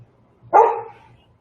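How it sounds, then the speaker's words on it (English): A single sharp bark from a dog indoors, loud and close, fading quickly over a faint low background hum. "That's my dog."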